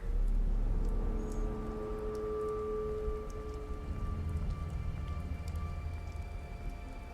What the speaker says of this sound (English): Got to end in the rain.